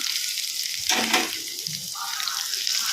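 Mustard seeds and asafoetida tempering in hot oil for a drumstick leaf chutney, crackling and sizzling loudly up close, with a brief burst of spitting in the middle.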